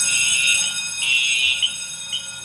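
A fire alarm horn sounds during a smoke test of a Novec 1230 fire suppression system, loud, steady electronic tones pulsing in long blasts with short gaps, close and without talk.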